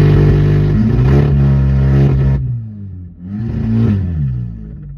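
An Audi S3 of the 8Y generation, its muffler removed, revs hard with a loud, raspy exhaust. The note climbs, drops off briefly, then surges again in a second, shorter rev.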